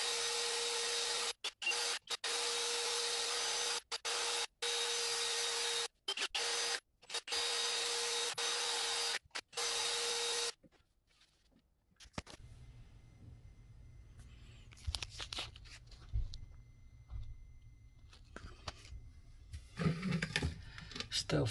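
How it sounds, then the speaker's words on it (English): Wet sanding scratched glass with 400 grit sandpaper, a steady loud abrasive rasp broken by brief pauses, then quieter handling and rubbing noises with a low hum after the sanding stops. "Let's do wet sanding on the 400."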